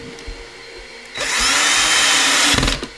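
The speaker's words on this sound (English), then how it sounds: "Again, don't over drill them." Power drill driving a screw into a twin XL daybed with storage drawers during assembly, one sustained loud whirring run of about a second and a half, preceded by faint handling clicks and ending with a few knocks.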